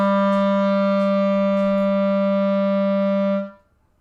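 A clarinet sustains a single low A, a steady, reedy note with rich harmonics, held cleanly for about three and a half seconds before stopping.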